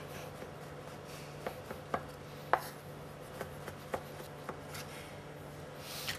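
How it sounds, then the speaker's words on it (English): A knife slicing a button mushroom on a board, with a series of soft, irregular taps of the blade striking the board, close but quiet over a faint room hum. "So we take our mushroom, we have a lovely bottom mushroom, we slice."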